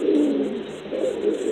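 Pigeons coo in a Cuban pigeon loft, low soft throaty calls rising and falling in two close bouts, with faint chirps above.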